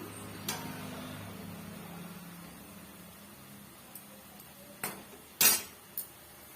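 Urad dal vadas frying in oil as a metal utensil turns them, a few sharp clinks and taps against the pan over a faint low sizzle, spaced irregularly and otherwise quiet.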